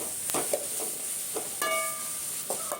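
Chopped tomatoes sautéing in a pan for a quick kurma, with a faint steady sizzle under intermittent spoon stirring and scraping clicks, close and fairly quiet.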